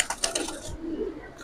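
Pigeons at a seller's market stall, a few soft coos and bird calls close by in a short stretch without talk.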